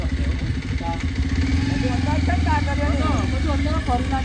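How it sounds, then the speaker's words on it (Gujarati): A motorcycle engine idling and revving steadily nearby, its low rumble continuous while people chatter over it. "બાઈકનો અવાજ આવી ગયો અત્યારે"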